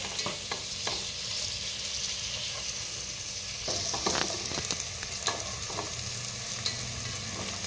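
Onions sautéing in a pan for chicken biryani, a constant close frying sizzle punctuated by frequent stirring strokes and utensil scrapes, growing busier midway.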